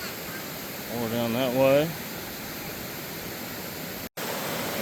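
Hebron Falls on Boone Fork, a waterfall rushing as a constant broad roar that fills the whole stretch, with a person speaking briefly over it.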